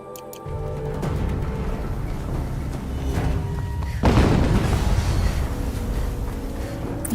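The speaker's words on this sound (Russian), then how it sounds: "Еще один взрыв." A heavy explosion boom lands midway through Horizon Zero Dawn Remastered gameplay, followed by a sustained low rumble amid a steady layer of synthetic game noise.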